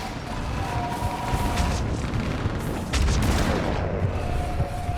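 Fire support gunfire and artillery in the video game Mass Effect 3, rumbling booms and scattered volleys at some distance, layered into a constant roar of battle.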